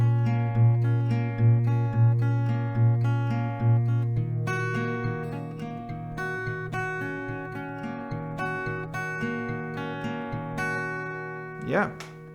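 Acoustic guitar strumming and picking the chord pattern of a song in rounds, steady sustained chords ringing close up with a brief squeak near the end.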